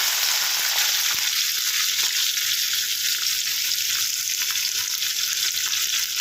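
Chopped onions hit frying paneer in a pan, setting off a loud, steady sizzle that fills the whole stretch with a dense, continuous hiss and no talk.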